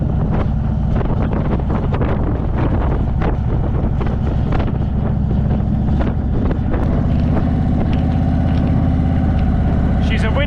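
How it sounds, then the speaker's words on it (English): Strong wind roaring over the microphone while riding an Indian motorcycle around Australia near Esperance, a constant loud rushing buffet layered over the low engine drone, with no break. "She's a windy one today. She's windy"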